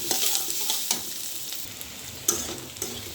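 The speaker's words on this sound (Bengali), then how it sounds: "এবার এই তেলে দিয়ে দেব কুচিয়ে রাখা পেঁয়াজ আর কাঁচামরিচ। ভালোভাবে নেড়ে চেড়ে নেব" Chopped onion and green chilli stirred and fried in hot oil, a bright continuous sizzle broken by a few sharp spatula scrapes, close and alone.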